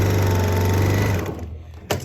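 A sewing machine threaded with white thread stitches along the top edges of quilted fabric pieces, a loud close steady whir that stops abruptly, followed by a brief clunk.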